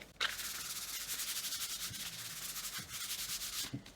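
Rapid back-and-forth rubbing of fine sandpaper buffing painted wood, a close, rhythmic scratchy whoosh repeating steadily for several seconds.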